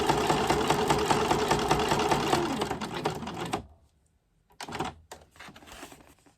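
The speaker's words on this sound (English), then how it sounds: "So my very old trusty sewing machine, which I never changed the needle on" An old sewing machine with a long-unchanged needle stitching along fabric seams, a close rapid mechanical chatter for several seconds that stops, followed by a couple of short bursts of stitching.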